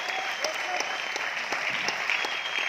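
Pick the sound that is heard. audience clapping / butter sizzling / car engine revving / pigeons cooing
audience clapping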